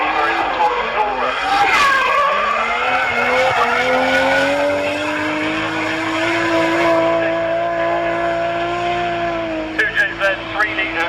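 A Toyota Cresta drift car with a NASCAR-inspired livery and a 500-horsepower 2JZ 3-litre single-turbo engine drifts at a track day. The engine howls loud and steady at high revs while the tyres skid. It trails off into sputtering pops at the end.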